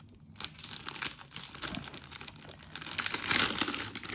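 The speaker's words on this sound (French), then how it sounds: "Désolée du bruit. Vous voyez, c'est dans un sac plastique." Close, loud crinkling and rustling of a plastic bag as a package is unwrapped, with bursts of crackle that swell toward the end.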